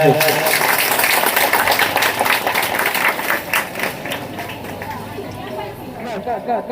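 Audience applause at a school reunion ceremony, a dense crowd clapping loudly at first, then thinning and fading out over several seconds, with some chatter mixed in.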